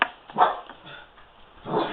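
A dog in a home where knitting is underway barks twice, a short sharp bark near the start and another near the end with a quiet gap between, moderately close and fairly soft.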